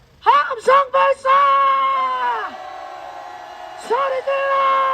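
A crowd at an anti-impeachment rally outside Korea's Corruption Investigation Office shouts a cheer: several short, loud yells, then a long sustained roar, another quick burst and a final drawn-out cheer, all close by.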